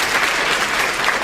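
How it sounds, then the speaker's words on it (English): Another round of applause from a seminar audience for Tim, Dave and their managers, a brief dense burst of clapping. "give Tim and Dave and your managers another round of applause"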